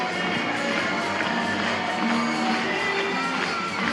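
A stadium crowd at a Savannah Bananas baseball game claps and cheers in a steady, dense roar, with scattered shouts and a faint voice somewhere in the mix.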